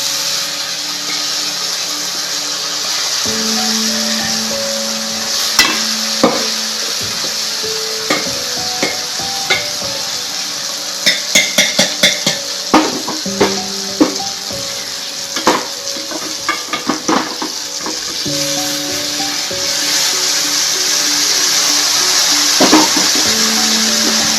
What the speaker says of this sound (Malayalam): ഇനി ഇതിലേക്ക് ഈ അച്ചിങ്ങയും കായും കൂടി വേവിച്ച് വെച്ചിരിക്കുന്നത് ഇതിലേക്ക് ഇട്ട് കൊടുക്കും.